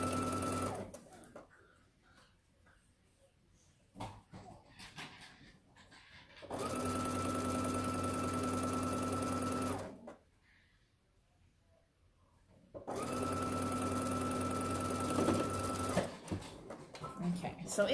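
Domestic sewing machine stitching Polynesia quilt-along block pieces, running in two steady bursts of several seconds each with quiet pauses between, close and loud, with talk around the runs.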